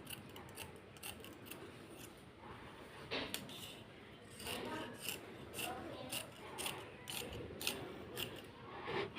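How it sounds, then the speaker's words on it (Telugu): Scissors snip through blouse fabric while cutting out a high-neck blouse, a quiet run of repeated crisp cuts and rustling cloth, close but low in level. "ఇప్పుడు చుట్టూరు కూడా కట్ చేసుకోవాలి."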